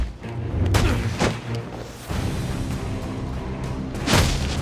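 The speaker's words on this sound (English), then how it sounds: "Firing on suspect!" Several booming gunshot bursts ring out in a Batman Arkham Origins game scene, with heavy rumbling low end and whooshing tails between the shots; there is no talk.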